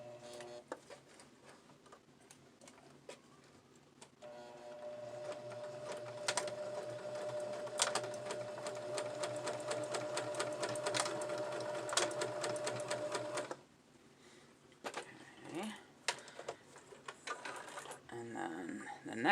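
A sewing machine stitches across a fiber-fill pouch for homemade curlers, running in a steady, ticking mechanical whir for about nine seconds before stopping, with lighter fabric handling sounds after.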